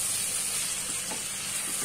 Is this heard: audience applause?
no